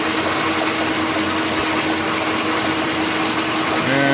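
An Ametek 30 electric motor runs at full speed, a steady, loud, even whirring drone with a constant high tone and no pauses throughout.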